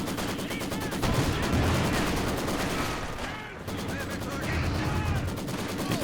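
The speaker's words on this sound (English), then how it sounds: "that Maxim working overtime, doing a really good job" Maxim machine gun in Company of Heroes 2 rattles in rapid, sustained bursts of gunfire with a short pause midway, loud and dense, with other battle shots mixed in.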